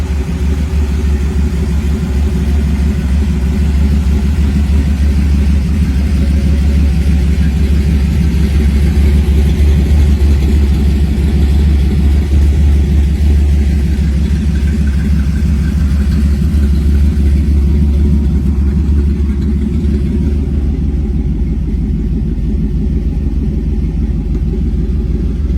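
Pro street 1939 Chevrolet Deluxe engine running loud and close, a heavy continuous rumbling drone with slight revving swells, steady throughout with no talk.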